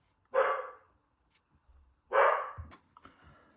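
Pet dog Rue gives two loud barks indoors, spaced over a second apart, with soft thumps and faint movement noises after the second.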